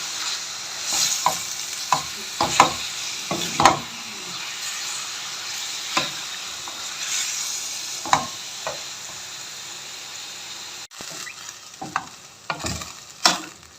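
Chicken for a jalfrezi fries in a pan over a medium flame, a steady close sizzle broken by repeated sharp scrapes and clatters of stirring, with no talking.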